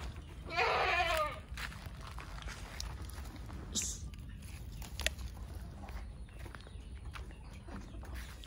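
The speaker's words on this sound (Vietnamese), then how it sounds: "Đây hàng xóm mình có nuôi mấy con dê nè anh chị." Goats kept by a neighbour at a rural property in Long Hung commune, Tien Giang, give one loud, close bleat near the start, followed by quieter scattered animal sounds over a steady outdoor background.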